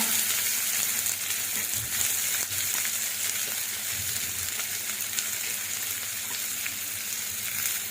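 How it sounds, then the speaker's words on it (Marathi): Curry leaves and chopped onion hitting hot oil in a pan, a loud continuous sizzle and crackle with occasional stirring, close and steady throughout with no talking. "तेल व्यवस्थित गरम झालेलं आहे। आता आपण यात टाकणार आहोत कढीपत्ता, त्यानंतर कांदा,"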